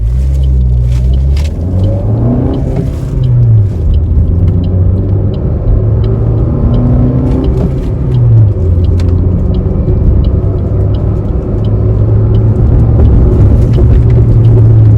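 A Maruti Suzuki Swift ZXI AMT in manual mode accelerates hard for a power test, its engine note climbing and dropping through gear changes several times, loud and close throughout with no speech.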